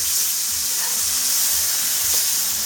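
Chicken pieces searing in a hot pan, a loud, steady, hissing sizzle heard close up throughout, with no talk.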